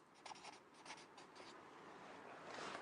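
Chalk or a marker scratches across a board during a maths revision lesson, giving a handful of short, faint strokes early on, then a soft continuous scrape with no talking.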